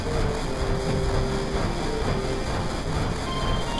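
Train ride in the video game Final Fantasy VII: a steady, dense rumble of rolling rail cars with a faint high whine drifting through, constant and close, with no talking.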